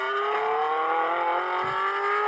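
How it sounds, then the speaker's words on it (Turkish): A car engine hums with a steady tonal drone at close range, its pitch creeping slightly upward as the sound shifts. "Şimdi de bak kapattım ya arabanın sesi değişti."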